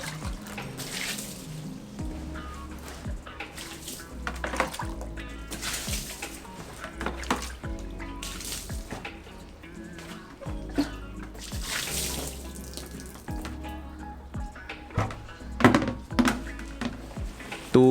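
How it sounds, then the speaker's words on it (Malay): Water poured over a Thule Subterra 34L travel backpack packed with clothes and a laptop, a waterproofing test: a long, irregular splashing and drumming of water on fabric with thuds and gurgles, loud and close, with no talk. "Tu dia, selesai saya mandikan beg tulen ni."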